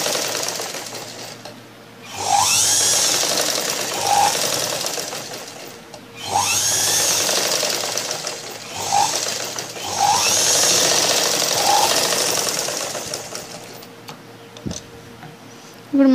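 An electric sewing machine stitches a blouse neckline in three loud, close bursts of rapid whirring, with short pauses between runs and fabric handled in the gaps.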